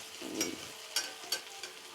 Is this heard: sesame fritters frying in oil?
yes